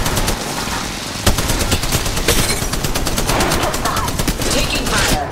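Sustained automatic gunfire in Apex Legends Mobile, a loud ranked match with rapid repeated bursts of shots throughout and a sharp report near the start, with faint game voice lines mixed underneath.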